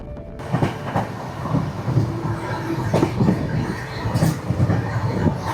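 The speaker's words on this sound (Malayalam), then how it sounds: "ഇത് ട്രിച്ചിന്ന് ചെന്നൈ എഗ്മൂറിലോട്ട് പോകുന്ന ഒരു സൂപ്പർ ഫാസ്റ്റ് എക്സ്പ്രസ് ആണ്" A superfast express train running from Trichy to Chennai Egmore passes close by, with steady rumble and rhythmic clickety-clack of wheels over the rail joints.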